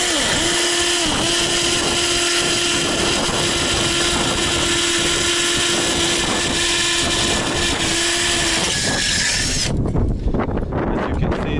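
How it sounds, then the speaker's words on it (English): A power drill bores weep holes into metal roof ridge capping, a steady whining motor tone running continuously for about nine seconds before cutting off into rougher, scraping noise at the end. "Now I have to drill them."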